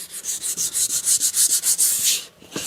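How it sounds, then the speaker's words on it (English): Light hand sanding of a sealer coat with 320 grit sandpaper in a refinishing shop: rhythmic back-and-forth scratchy rubbing strokes, close and steady, about a dozen passes with a short pause near the end. "I always use 320 grit, just a light sand"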